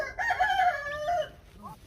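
A Brahma rooster crows once, near and fairly loud, a drawn-out warbling call that trails off, followed by a faint cluck.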